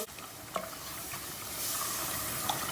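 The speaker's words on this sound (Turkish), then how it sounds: "Yine ocağımızın altı ısık olacak. Unumuzu bir karıştıralım." Flour is stirred in a hot pan over heat, with cold milk being added, producing a soft, steady sizzle and scraping hiss that grows slightly fuller partway through, with no talking.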